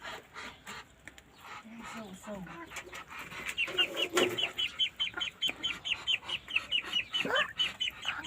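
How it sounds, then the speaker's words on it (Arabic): Ducklings peeping in a farmyard, a rapid run of high, thin repeated peeps in the second half, soft and close, with quiet voices in the background. "ايوه سامعين الصواصيو؟ سامعين البطات"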